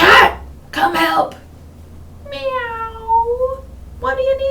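A storyteller's voice imitates a cat meowing, two drawn-out playful meows after a breathy throat sound, close and clear with speech around them.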